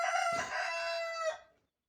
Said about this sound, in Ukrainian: це, до речі, півник з посилки з Київської області Кукуріка